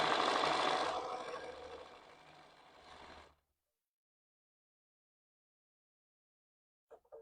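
A sewing machine top stitching the machine binding of a quilt, a fast steady mechanical whir that slows and stops about three seconds in, followed by silence and a faint brief clatter near the end.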